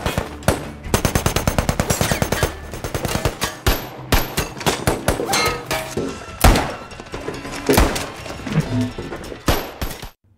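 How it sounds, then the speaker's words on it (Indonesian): Rapid bursts of gunfire in a film shootout at a bank, with automatic machine-gun volleys and single loud shots. They come in dense clusters with brief pauses and heavy impacts, loud and close, with no talking. "terjadi aksi baku tembak yang sangat epik"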